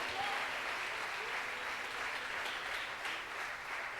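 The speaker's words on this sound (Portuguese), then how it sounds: "pode dar um glória a Deus, bem forte, aplaudindo o Rei dos Reis" A church congregation applauds in worship, a dense, steady wash of clapping from many hands held evenly throughout, with no voices standing out.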